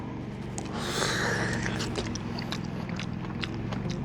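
Someone bites into and chews a firm, crisp plum in a plum orchard, with a broad crunch near the start followed by steady close chewing and faint mouth noises; no one speaks.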